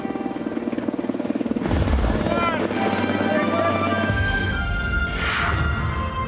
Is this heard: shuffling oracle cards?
no